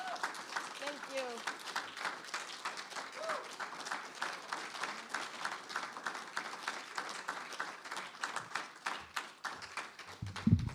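Audience applause following a faculty presentation of a book reading, steady dense clapping from a crowd filling the room throughout, with a few voices faintly underneath.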